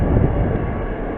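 A Class 802 train passing through Reading station, a loud low rumbling roar of the moving train, steady and close for the whole stretch.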